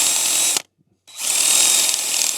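Drill bores a small new indent into a rusty, damaged hydraulic cylinder part from a Hitachi EX120-2 excavator, a loud steady whine that cuts out briefly and then resumes.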